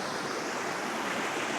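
Water pours continuously at Cholamala waterfalls in Wayanad, Kerala, a dense close hiss and rush with no breaks or voices.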